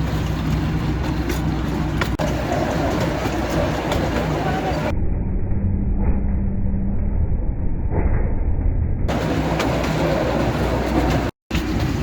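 A small holiday light festival train rolls steadily along its rails in a park, giving a continuous rumbling clatter with faint voices in the background.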